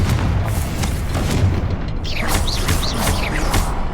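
Confringo blasting spell explosions in Hogwarts Legacy: heavy booming blasts with rumbling impacts, followed by bright whistling, chirping magical effects in the second half.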